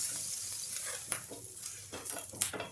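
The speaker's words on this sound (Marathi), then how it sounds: "पाण्याचा शिक्का दिला आहे तव्यावरचं पाणी आणि तेल हे या एका फडक्याने पुसून घेते" Water and oil sizzle on a hot tava griddle while a cloth wipes across the surface, producing a loud, continuous hiss broken by several rhythmic rubbing strokes, close up and with no talking.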